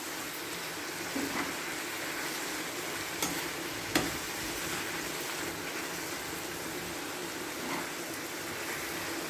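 Garlic, curry leaves and coriander sautéing in a pan over low flame, a continuous soft sizzle with a few faint clinks of stirring.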